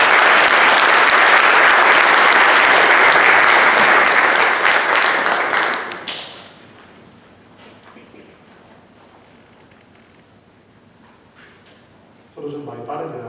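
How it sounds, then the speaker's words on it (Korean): Loud, dense applause from an audience at a church symposium on immigrant protection, sustained for about six seconds then fading into quiet room tone, followed by a voice starting to speak near the end. "큰 격려의 박수를 보내주셨습니다"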